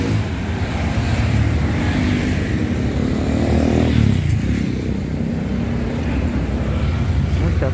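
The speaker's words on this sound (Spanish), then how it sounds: "Muchas motos." Heavy traffic with many motorcycles roars past on Avenida Tacna, a busy city street in central Lima, a dense, loud, continuous engine wash with swelling passes and no clear voices.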